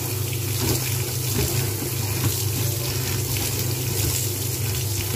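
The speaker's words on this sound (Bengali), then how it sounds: "ভালো করে ধুয়ে নিয়ে" Kalmi greens being washed under a running tap in a kitchen, a steady, fairly loud gush of water with splashing and rustling leaves throughout, with no one talking.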